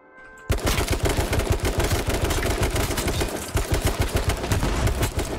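Rapid bursts of gunfire in a gunfight in the video game H1Z1, loud, close and continuous after a brief quiet start, with dense repeated shots and no talking.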